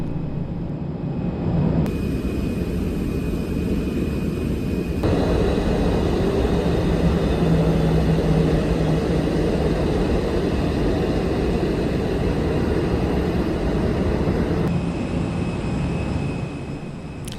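Steady, loud jet engine roar from planes taxiing on the ramp at Los Angeles International Airport, a broad rumbling wash that holds level with slight shifts in tone.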